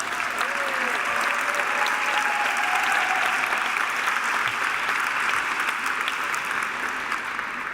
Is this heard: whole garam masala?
no